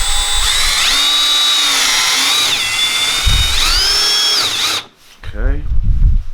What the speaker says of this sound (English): I'm just kind of lining the drill bit up with the edge of this plate here.